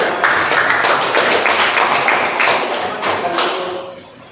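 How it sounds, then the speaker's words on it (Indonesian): An audience at an evening seminar on addiction claps, a dense burst of hand applause at close range that thins and fades toward the end, with a voice faintly under it. "kita berikan tepuk tangan buat kasih ya"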